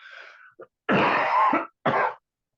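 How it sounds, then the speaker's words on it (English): A person getting over a cold coughs in several harsh bursts, with a short throat-clearing sound first, then a long rough cough and a final shorter one, close and loud. "I have to take just a short break to cough"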